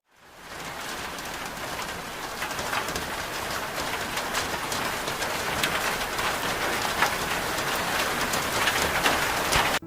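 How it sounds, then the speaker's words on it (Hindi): Rain falls steadily in Ziro valley, Arunachal Pradesh, swelling quickly from quiet into a dense, even hiss with scattered louder drops pattering nearby on surfaces throughout. "टिकट लेके अंदर घुसते ही हम लोग का यहाँ पे बारिश शुरू हो गया था"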